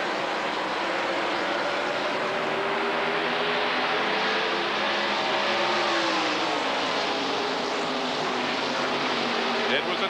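NASCAR Winston Cup race cars at the 1997 Winston all-star race roar as a pack just after the start, a continuous loud engine drone with shifting pitch under crowd and commentary noise.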